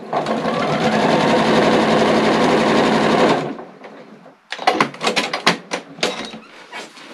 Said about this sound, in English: You're just going to sew these strips together